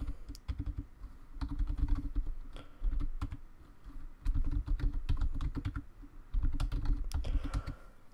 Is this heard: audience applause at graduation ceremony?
no